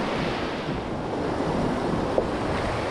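Big ocean waves breaking on a rocky shore at a fishing spot in Linapacan, Palawan, a loud, steady, close wash of surf with wind buffeting and no pauses.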